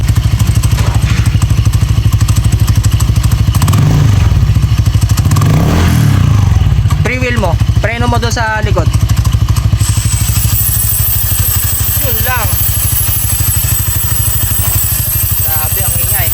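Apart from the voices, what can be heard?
motorcycle CVT dry clutch rattling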